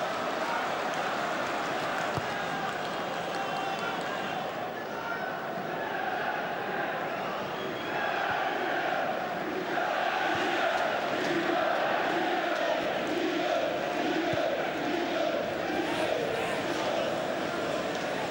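A stadium crowd at a Manchester United versus Newcastle United Premier League match in 2008 roars in appeal, a sustained distant swell of voices that rises toward the end.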